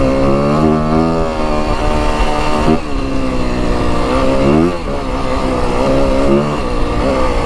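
A Yamaha WR 250F dirt bike engine revs loud and close, holding a high buzzing whine that dips and climbs again in two brief throttle changes.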